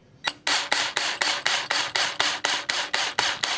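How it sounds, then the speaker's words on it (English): A drill bit bites into a steel pipe in rapid, evenly spaced rasping bursts, about a dozen in quick succession. Close and fairly loud, with no talking. "Let the drill bit cut into the steel."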